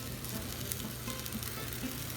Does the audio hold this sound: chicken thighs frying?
yes